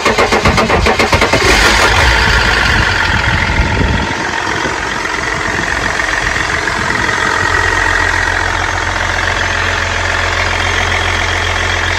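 A Range Rover L322 TD6 diesel cranks over and catches, then settles into a loud, steady, rumbling idle with a throbbing low drone close to the listener, no talking heard.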